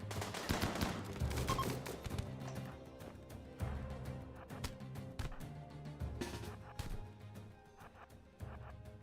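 Assault rifle fire in RimWorld crackles in quick, uneven bursts of sharp shots, fairly quiet and distant-sounding, with scattered impacts and other combat noise between volleys.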